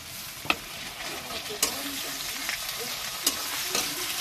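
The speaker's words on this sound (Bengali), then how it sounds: "রসুনটা দিয়ে একটু নেড়ে নেবো" Garlic sizzles in a pan with lightly browned onions while a spoon stirs, giving a soft steady fry broken by several sharp scrapes and taps.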